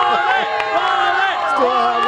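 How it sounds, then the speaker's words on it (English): Excited crowd at an election night watch party: a dense, steady murmur of many voices close by, with occasional shouts and cheers rising through the din. "have this crowd behind us. You can hear the excitement in their voices."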